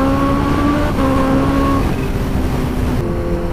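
A Kawasaki Ninja H2 supercharged motorcycle with a loud exhaust drones steadily and close by, its engine note dipping slightly in pitch twice as it rides along.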